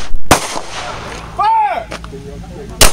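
Two sharp pistol gunshots at an outdoor shooting practice, one near the start and one at the end, each a loud crack. Voices of people talk between the shots.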